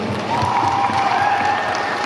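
Applause from an audience at a promotional event for a Dileep film, a dense, steady patter of many hands clapping that holds at an even level for about two seconds, with a faint crowd murmur underneath.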